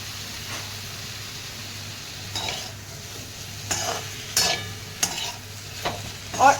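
A spatula stirs potato and onion sabzi in a pan to work in the salt, a steady sizzle running underneath a few scattered scrapes and clinks against the metal.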